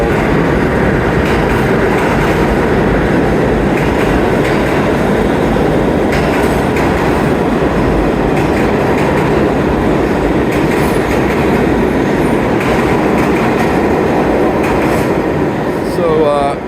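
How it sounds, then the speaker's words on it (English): A 48-year-old R46 C train on the New York subway's 8th Avenue line at Penn Station rumbles loudly and steadily through the station, wheels clattering with a faint squeal near the end. "this C train is the R46, 48 years old"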